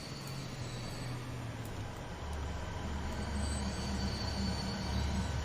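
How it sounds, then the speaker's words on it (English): An old gas-powered diesel train runs in Transport Fever 2, giving a steady low rumble of engine and rolling wagons that grows slightly louder partway through, with no talk over it. "there's that wonderful old gas-powered diesel, whatever it was"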